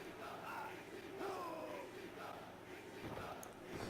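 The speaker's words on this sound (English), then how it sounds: "Crowd's going absolutely ballistic right now." A wrestling crowd at an amateur federation show cheers and yells wildly, a dense, continuous wash of shouting voices that stays fairly faint.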